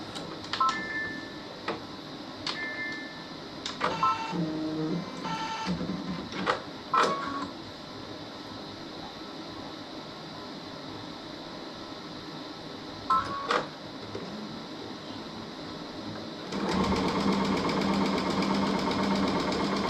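A sewing machine stitches quilting fabric in several short bursts of rapid mechanical clatter, separated by quiet pauses, followed by a steadier, louder run near the end.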